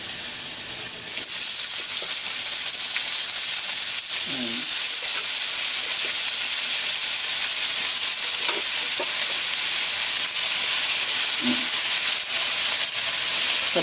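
Chopped bottle gourd (upo) frying in a pan, a steady loud sizzle and hiss that runs unbroken, with faint stirring clatter here and there and no talk.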